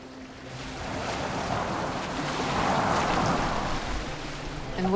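Boat moving across open water in Assassin's Creed Valhalla, with steady washing waves and wind noise that swell gradually and stay moderately loud, no voices present.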